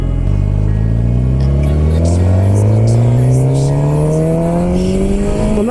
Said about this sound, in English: you got some bikes out there now, don't you?